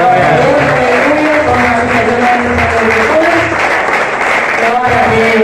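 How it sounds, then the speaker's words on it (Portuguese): A church congregation applauds during a Sunday family service, the clapping mixed with voices and music-like sustained tones, steady and loud throughout. "Aplauda ao Senhor."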